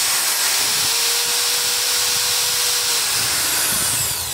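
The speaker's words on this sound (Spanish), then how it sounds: "Y por aquí le pegan una suavizada al eje del inducido." A hair dryer motor armature shaft spun in a drill while being sanded smooth, a loud steady high hiss and whine that runs throughout with a brief tonal whir in the middle.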